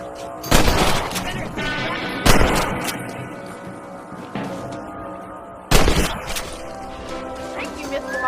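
Rifle shots at rabbits in the video game Red Dead Redemption, several sharp gunshots spaced a second or more apart, loud and close, over a continuous bed of game ambience and music.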